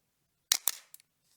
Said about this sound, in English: It has a super satisfying camera advance